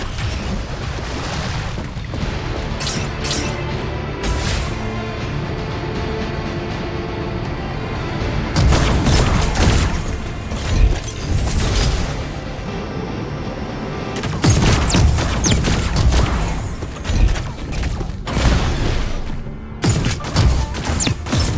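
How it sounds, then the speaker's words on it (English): Gunfire and crashing explosions fill a Super Mecha Champions solo battle, with repeated loud bursts, bangs and thuds coming in dense clusters and brief lulls between them. "I hear gunfire. Keep your eyes sharp."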